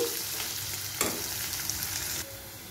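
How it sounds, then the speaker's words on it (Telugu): Grated onions sizzle in hot oil in a pan for semiya upma, a steady close frying hiss broken by a brief stirring scrape. "ఉల్లిపాయలు కొంచెం వేగాయి కదండి, ఇప్పుడు క్యారెట్ తురుము వేసుకోవాలి."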